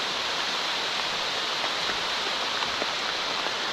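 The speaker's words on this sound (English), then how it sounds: "Well, we survived the rain." Steady rain falls on a wet, cloudy campsite during a canoe and fishing trip, a dense even hiss of drops with no voices.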